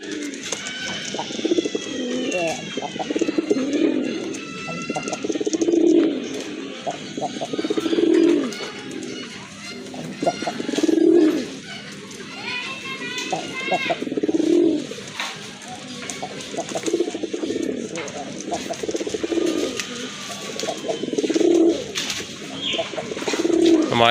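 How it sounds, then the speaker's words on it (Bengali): A pair of Madrazi Golla pigeons coo close by in soft, throaty phrases repeated every two to three seconds, with lighter chirps from other birds in the background. "দেখার মতো এক জোড়া কবুতর কি কবুতর ভাই এটা মাদ্রাজি গোল্লা মাদ্রাজি গোল্লা"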